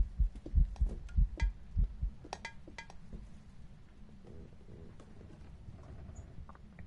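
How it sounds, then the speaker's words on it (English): Heavy ghost footsteps in a haunted horror video game: a rapid run of deep, loud thumps for the first two seconds or so, then softer, scattered steps fading into a low ambient hum. "I can hear its footsteps."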